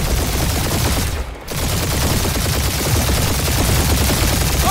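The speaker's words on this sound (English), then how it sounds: "Taking fire! Spaceships, monsters, but crap! That's a lot of turrets!" Turret gunfire from Marvel's Guardians of the Galaxy rattles in dense, rapid bursts, loud and continuous apart from one brief dip, no voices over it.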